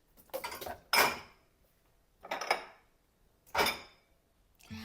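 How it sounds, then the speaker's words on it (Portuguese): Dishes, pots and cutlery clatter during washing, about four separate bursts of clinking and scraping spaced a second or so apart, close by and fairly quiet, with no talk. "a minha ajudante vai terminar de fazer o serviço ali de lavar as vasilhas"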